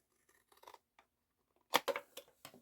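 Scissors cut through paper for a junk journal, with a few light, quiet snips and then a quick run of louder crisp snips close by, all alone without talk.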